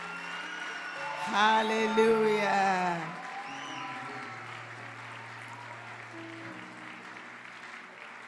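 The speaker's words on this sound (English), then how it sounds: "Let's just give him a clap offering and hope that he will receive from heaven." Audience applause at a national prayer conference session, a broad wash of clapping that swells under a loud sung or shouted exclamation, then fades to a low sustained tone with background hum.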